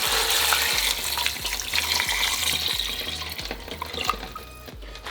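Two litres of hot water are poured into a pot of military-style bean stew with beans and chopped bacon, giving a continuous gushing, splashing flow close by alongside a steady, regular low thumping.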